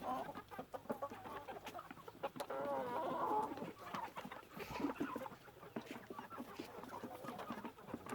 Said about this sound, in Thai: นี่เป็นไก่ห้าเดือนนะครับ